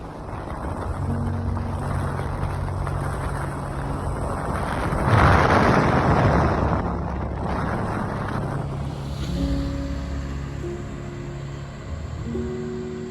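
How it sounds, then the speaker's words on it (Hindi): Rushing river water at the confluence of the Alaknanda and Pindar rivers in the Himalayan mountains, a steady broad roar mixed with wind buffeting the microphone, swelling louder midway, with no talking. "यहाँ पे है अलकनंदा और पिंडर नदी का संगम।"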